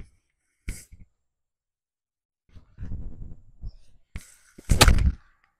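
A gap wedge strikes a golf ball on a course near the green with a sharp, brief click. Quiet pauses and murmured voices follow before a second loud crack near the end.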